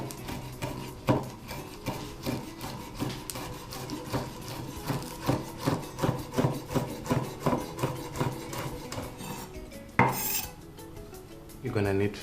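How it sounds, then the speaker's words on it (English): Knife chopping a spring onion on a cutting board, a steady run of close, crisp rhythmic chops that pause near the end. "I'm gonna chop my spring onion"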